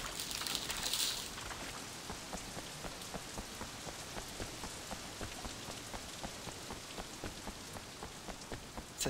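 Steady rain pouring down on surfaces in Sleeping Dogs, a dense, even hiss with scattered drop patters throughout and no speech.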